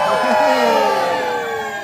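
A live stunt-show audience at Butlins Minehead cheers and screams loudly and continuously, a dense crowd roar with high voices of children whooping throughout.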